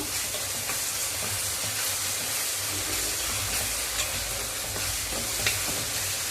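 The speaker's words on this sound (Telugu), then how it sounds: "ఇది కూడా నూనెలో కొంచెం ఫ్రై చేసుకుందాము" Ginger paste frying in oil in a home kitchen pan, a steady close sizzle and hiss with occasional spoon stirring scrapes and pops, no talking.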